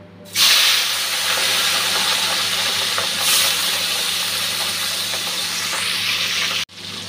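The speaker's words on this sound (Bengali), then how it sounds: "তেলটা গরম হয়ে গেছে, মাছটা আমি অল্প ভাজবো" Small fish fry in hot oil for a Bengali fish dish, giving a loud, steady hiss and sizzle that runs nearly unbroken for several seconds before cutting off abruptly near the end.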